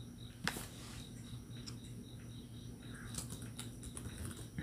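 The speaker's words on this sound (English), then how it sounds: "let me type all this stuff up." Keyboard typing sounds faint and sparse: a few soft, scattered key taps over a low steady background hum.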